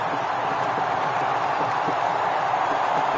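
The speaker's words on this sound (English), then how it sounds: "now the crowd beginning to cheer" A cricket stadium crowd at the India vs New Zealand ICC Champions Trophy final gives off a steady, dense roar of cheering that stays at an even level throughout.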